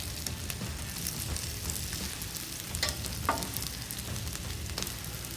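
Fries, diced bacon and sausage sizzle in oil on a flat griddle, a steady dense crackle and hiss running throughout with occasional sharper pops, close and continuous with no talking.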